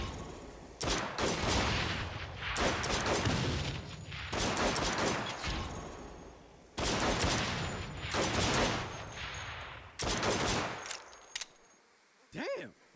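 Saints Row video game gunfire: sustained automatic bursts ripping out one after another for many seconds, loud and close, with short gaps between volleys and a few isolated shots near the end.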